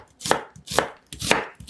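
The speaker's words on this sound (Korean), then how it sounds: "양파 한 개는 채 썬 다음 냄비에 넣으세요" A knife slices through an onion on a cutting board in a home kitchen, three firm, evenly spaced cuts with a crisp crunch, close and clear with no talking.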